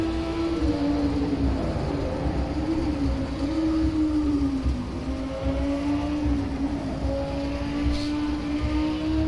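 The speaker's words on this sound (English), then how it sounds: "Let's ride around with him and listen to his throttle play." A Lamborghini Super Trofeo race car engine in a racing video game drones steadily at a high pitch, the throttle rising and easing in gentle waves over several seconds.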